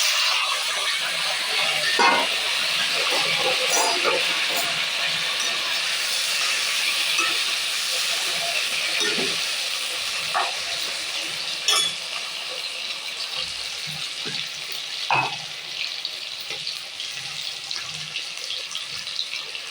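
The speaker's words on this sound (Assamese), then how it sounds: "এতিয়া সেয়া কচুখিনি দি দিম।" Taro pieces tipped into a pan of browned fried onions, setting off a loud, steady broadband sizzle with scattered pops and crackles running throughout.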